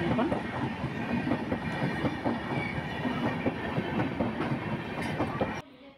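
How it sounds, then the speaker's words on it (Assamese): A train passes close by a railway crossing, a loud continuous rumble with rhythmic clickety-clack of wheels over the rails, cutting off abruptly near the end. "এয়া চাওক, ট্ৰেইনখন আহিছে।"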